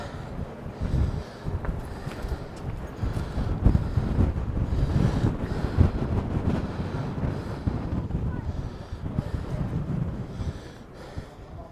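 Strong gusts batter the microphone at the top of a spiral staircase on an exposed coastal walk near Uphill Marina, a continuous low roaring buffet with surging peaks, no voices over it.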